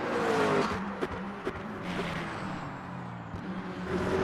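A GT3 race car in the racing game Le Mans Ultimate drones steadily at high revs, with engine pitch sweeping and brief shifts and tyre noise mixed in, loud and continuous with no talking.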